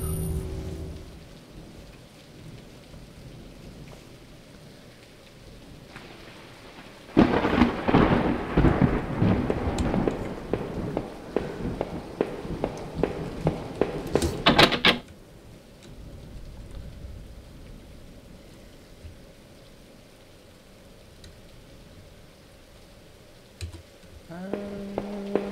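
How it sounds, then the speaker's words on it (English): A loud, crackling thunderclap rumbles for several seconds in a video game storm, with faint rain hissing steadily before and after it. "Oh no, not a storm."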